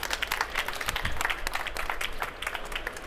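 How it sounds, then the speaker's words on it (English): An audience at a packaging trade forum at drinktec applauds in a brief, dense burst of clapping from a crowd, fairly soft and even from start to end. "let's give him a huge welcome and a round of applause."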